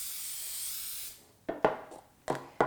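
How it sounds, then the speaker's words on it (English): An aerosol can of coconut nonstick cooking spray coats a 13 by 9 loaf pan in one continuous hiss for about a second, then several sharp knocks and clatters follow. "You can use nonstick spray."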